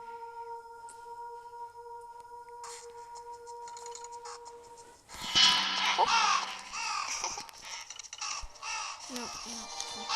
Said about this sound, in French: il y a le corbeau